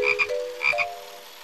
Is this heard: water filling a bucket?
no